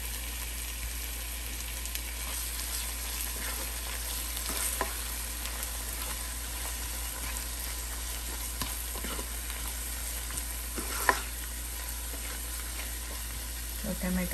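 A large tomato frying in a pan with capsicum chicken drumsticks gives a steady, even sizzle throughout, broken by a few soft stirring knocks.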